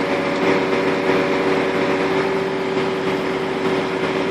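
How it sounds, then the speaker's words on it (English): Truck engine droning steadily at a constant pitch while hydraulics raise a recovery truck body back onto its chassis, a continuous loud hum with no talking. "Every time you hear that engine tone, it's another inch nearer being raised up."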